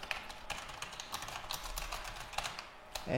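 Rapid, light clicking of a computer keyboard as someone types, a close, steady run of key taps with uneven rhythm over a faint background hum, no voices.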